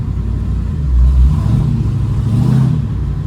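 A manual BMW E36's engine rumbles deeply and revs up twice, with a rough, throaty low-end roar from an exhaust leak.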